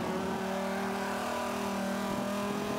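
A #91 SRT Viper race car in Forza 5 holds a steady, loud engine drone in sixth gear at fairly low revs, the tone continuous and close throughout with no talk over it.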